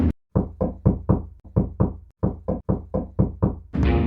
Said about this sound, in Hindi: तभी कोई दरवाजा खटखटाने लगता है